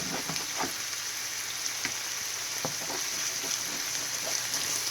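Pierogies fry in a pan with a steady, close sizzle and crackle, scattered soft pops and clicks breaking through the continuous hiss.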